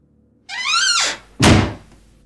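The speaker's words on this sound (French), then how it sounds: "Une porte se referma" A door in a dark, empty room swings with a rising creak, then shuts with a single heavy, close thunk, with no other sound around it.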